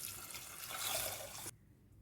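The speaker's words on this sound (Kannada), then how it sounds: "ನೀರು ಹಾಕಬೇಕು." Water splashes steadily into a cooking pot holding soaked peas and potatoes for masala puri, a rushing pour for about a second and a half before stopping abruptly.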